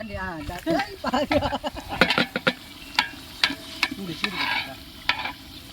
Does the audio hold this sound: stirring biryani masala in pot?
yes